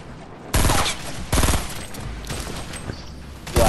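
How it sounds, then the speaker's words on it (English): Grenade launcher firing in the Fortnite video game: loud, sharp, booming blasts, one near the start and another a second later, with a third burst at the end. "Oh, grenade launcher."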